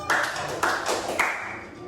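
Three sharp, bright hand claps spaced evenly about half a second apart, set against the sung Malay children's melody "Kalau Kau Suka Hati".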